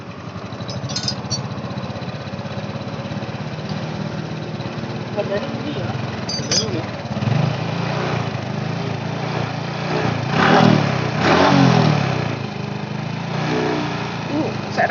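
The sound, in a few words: Honda Revo Fit motorcycle engine running and revving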